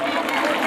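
A crowd at a political event bursts into loud, dense applause welcoming candidate Partha Bhowmik, a continuous wash of hands filling the short moment.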